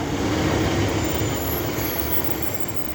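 Passenger train 151.44 pulling away from Castleton station on the Core Valley Lines, a loud, close rumble of wheels and carriages with a thin high squeal above, rolling steadily and easing off slightly, with no talk.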